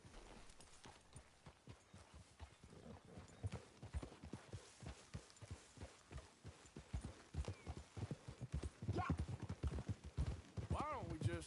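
Horse hooves clip-clop repeatedly in Red Dead Redemption 2, with a whinny near the end and voices talking throughout.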